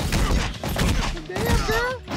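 Enemy gunfire in the video game Double Dragon Gaiden, loud rapid shots crackling through the clip over game sounds, with a voice speaking beneath.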